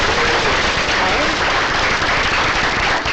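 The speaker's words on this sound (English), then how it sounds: "give them hands of applause." Audience applause fills a forum panel event hall, a steady dense wash of many hands clapping that stays loud and even from start to finish with no talk over it.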